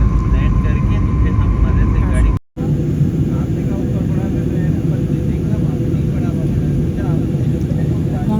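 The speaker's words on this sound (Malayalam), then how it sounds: "അത്യാവശ്യം താഴ്ത്തുന്നുണ്ട് ഫ്ലൈറ്റ് നന്നായിട്ട്" Steady loud roar of an airplane cabin as the jet descends, a constant broadband engine and airflow drone broken by one brief cut, with a voice talking over it.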